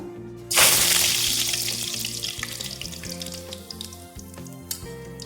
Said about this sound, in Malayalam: ചൂടായ എണ്ണയിലേക്ക് കറിവേപ്പില ഇട്ട് കൊടുക്കാം